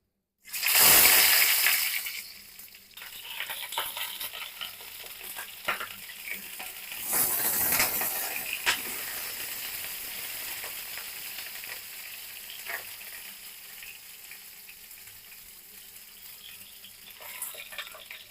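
Pointed gourd pieces hit hot oil tempered with dried chillies, five-spice and asafoetida, setting off a loud sudden sizzle that settles into a steady crackling fry with occasional stirring clatter, close by.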